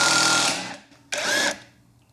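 A cheap cordless impact gun undoing a nut, two short loud whirring bursts with a brief gap between, close up, then a fading mechanical tail.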